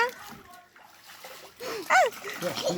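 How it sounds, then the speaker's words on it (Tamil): A child splashes water in a small swimming pool, with a sudden burst of splashing and sloshing after a calmer stretch of trickling water, mixed with nearby voices of adults and someone talking. "அம்மா மேல தெளிச்சிடாத."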